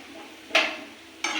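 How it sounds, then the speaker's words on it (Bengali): Potatoes frying in a pan are stirred twice, each time with a loud scraping swish over a steady background sizzle. "মোটামুটি আলু ভাজা রেডি।"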